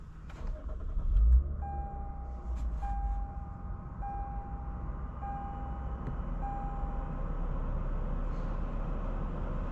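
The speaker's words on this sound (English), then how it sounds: "today we're going for a drive in this 2025 Lexus IS 350 F Sport" A 2025 Lexus IS 350 F Sport with a 3.5-liter naturally aspirated V6 heard from inside while driving, a steady low engine and road rumble with a faint repeating chime and a few clicks near the start.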